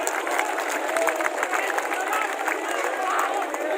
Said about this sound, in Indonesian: Kasih aplaus dulu Bapak Gubernur kita